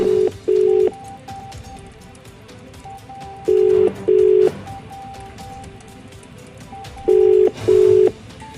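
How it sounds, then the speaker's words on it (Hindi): A phone ringback tone sounds in repeated double pulses, three pairs spaced evenly a few seconds apart. "तो ये पूरी घंटी बज गई उनके फोन की"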